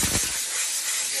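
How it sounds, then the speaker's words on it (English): An air blowgun blasts dirt off a semi truck steer tire, a short, loud, close hiss of compressed air lasting about a second. "So I like to come along with a blowgun."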